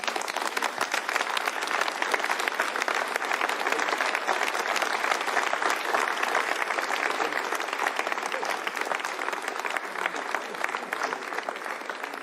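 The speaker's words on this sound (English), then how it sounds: "You can hear the applause now from the people in Jupiter" Steady applause fills the Ariane 5 launch control room in Jupiter, Kourou, after the GeoComSat 2B satellite separates, a dense, even clapping from a crowd of staff that holds for the whole stretch with faint voices mixed underneath.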